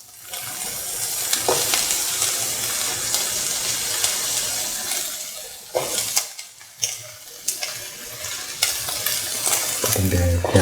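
Shallots, onion pieces and garlic fry in a pan with a dense sizzle, stirred with repeated scraping and clatter. The frying briefly drops away midway, then returns with sharper knocks and a watery splash near the end.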